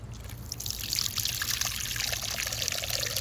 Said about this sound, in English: Now it's time to fill them with water.